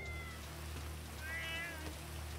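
Cats meowing in the video game GTA 5: two short mewing calls, one near the start and a longer wavering meow in the middle, faint over a steady low background hum.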